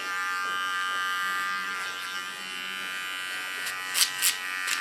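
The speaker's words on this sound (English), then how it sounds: "With a small whale clipper I clean the contours, take away the facial hairs." A small Wahl hair clipper trims facial hair contours during a haircut, a steady close electric buzz running throughout with a few brief sharper touches near the end.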